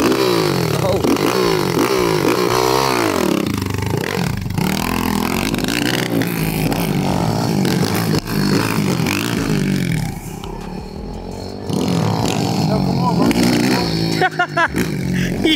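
A 190cc pit bike engine racing, buzzing and revving up and down at high pitch with rising and falling sweeps, fairly loud, with a brief dip midway and voices talking over it.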